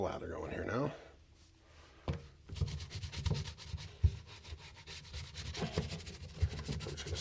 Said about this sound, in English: I'm just going to scrub these Kilties down really good with saddle soap